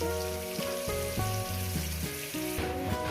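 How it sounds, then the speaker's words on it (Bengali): Turmeric-coated potatoes fry in hot oil, making a fairly quiet, continuous sizzle heard close up, with a steady tonal background underneath. "আলুগুলো সুন্দর করে একটু করে আমি লাল আলু করে ভেজে নেবো"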